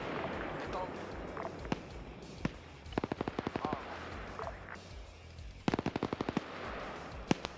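Rapid bursts of automatic gunfire crackle through a military video game battle, several short volleys in quick succession with scattered single shots, heard under voices talking.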